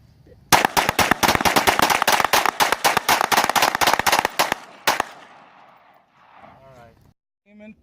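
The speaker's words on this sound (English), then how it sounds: "Mag dump, Glock and Beretta." A rapid magazine dump from a Glock and a Beretta, about forty fast, loud, sharp shots over four seconds with a final shot after a short gap, followed by faint voices.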